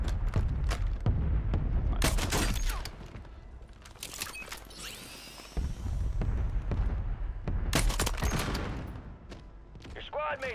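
Bursts of rapid gunfire crack loudly and close in the shooter Warzone 3, arriving in several volleys with short gaps between them, with voices talking during the action.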